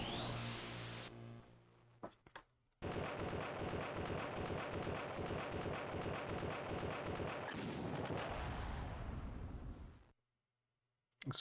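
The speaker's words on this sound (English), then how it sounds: "Explosion is so silly." Retro video game explosions roar as a dense, rapid string of blasts that holds steady at full loudness for several seconds before cutting off abruptly into silence.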